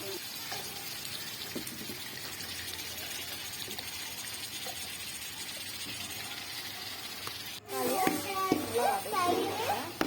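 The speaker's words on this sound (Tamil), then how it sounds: "தக்காளியும் வெங்காயம் நல்லா வதங்கட்டும்." Onions and tomatoes fry in oil for chicken biryani, a steady soft sizzle close by, joined near the end by louder stirring and background children's voices.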